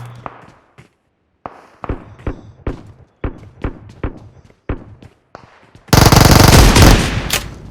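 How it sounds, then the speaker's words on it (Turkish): Gunfire in a video game where a pump shotgun is used, a series of sharp, evenly spaced loud shots followed by a dense, noisy burst of firing at the end. "Pompalı vuracağım onu."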